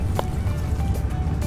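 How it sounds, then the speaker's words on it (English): A child splashing water outdoors at a kite festival by a pond: a couple of brief, soft splashes and drips over low background rumble, fairly close but quiet. "He splashed."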